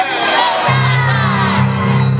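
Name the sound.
crowd applause and cheering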